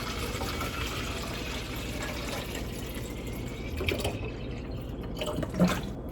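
Spring water running into a SodaStream bottle, a steady, moderately loud pouring and trickling wash that holds for several seconds, with a few faint clinks near the end and no talking.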